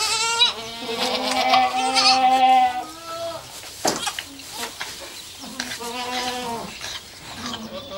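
A goat and her newborn kid on a farm bleat loudly and close by, with several drawn-out calls and a short pause in between.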